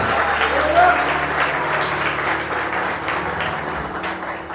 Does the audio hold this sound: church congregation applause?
yes